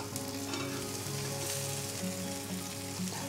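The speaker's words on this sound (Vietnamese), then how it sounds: "với chỗ tôm luộc của mình thì mình sẽ áp chảo" Boiled lobster and shrimp sear in a frying pan with purple shallots, giving a steady, loud sizzle along with faint stirring and a low hum underneath, with no talk.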